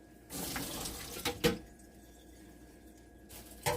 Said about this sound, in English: Then we're going to add in our corn, which we're going to drain.